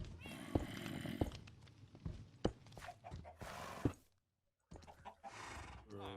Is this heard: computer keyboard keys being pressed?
no